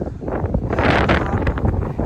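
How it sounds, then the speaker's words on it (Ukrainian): Heavy, continuous winter wind on Mount Parashka buffeting the microphone, a roaring low rumble with gusts that swell and ease, with no voices. "Тут такий вітер сердитий."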